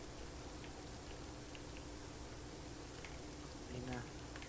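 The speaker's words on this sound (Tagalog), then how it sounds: "Tagal ng ulan ah. Umuulan pa ba? Umuulan pa." Steady rain falling in the survival game Rust, a constant faint hiss of raindrops throughout, with a brief voice near the end.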